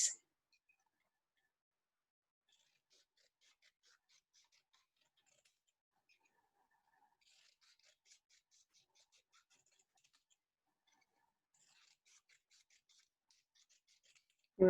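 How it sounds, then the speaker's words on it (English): Scissors cut coloured paper into strips for craft legs, a faint, quiet snipping that comes in short clustered bursts separated by pauses, with no talking. "So then I'm going to cut down the lines to make 6 individual legs."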